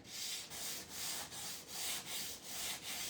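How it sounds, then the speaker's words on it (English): A small gator sander lightly smooths a wooden garden sign, giving a steady close rasping hiss that swells and dips in roughly half-second strokes, alone with no talk. "with my little gator sander to just kind of smooth it out"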